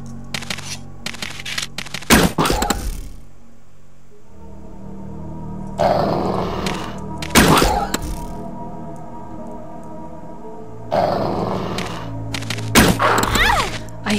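Bursts of gunfire from a weapon in Resident Evil 2, Claire B scenario, fired in three clusters of rapid shots separated by quieter stretches of game ambience and music; loud and close.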